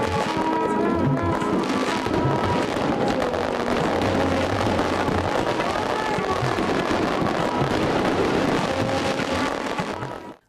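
Fireworks at a wedding procession crackle and pop continuously, a dense, loud barrage of bursts with a murmuring crowd underneath.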